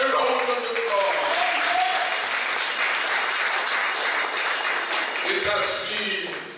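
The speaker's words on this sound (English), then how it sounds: "give yourself a round of applause" Broad applause from a crowd at a community consultation meeting, a full, sustained roar of clapping that runs at steady strength before tailing off, with a voice heard briefly over it.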